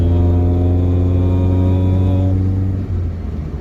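A Mk2 Volkswagen Golf GTI 16v engine revs loudly with a deep, throaty drone, holding a steady roar before the pitch drops and it settles.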